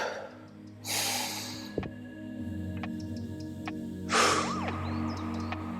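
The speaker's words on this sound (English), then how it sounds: "We're gonna take 3 deep breaths." Two deep breaths, each a broad loud rush of air at about one second and again near four seconds, taken slowly during a relaxation pause in a rear deltoid workout, with steady background hum between.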